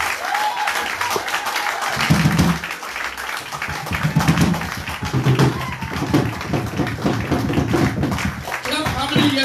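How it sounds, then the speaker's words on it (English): A church congregation claps hands for Jesus in bursts of loud, rhythmic clapping, while a preacher's voice carries over the applause. "Clap your hands, clap for Him"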